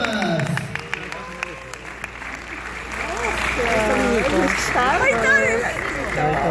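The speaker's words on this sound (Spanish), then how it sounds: "¡Fuerte las palmas!" Audience clapping along during a Mexican folk dance performance of El Zapatillo, rhythmic claps building under shouting voices and cheers, fairly loud and sustained.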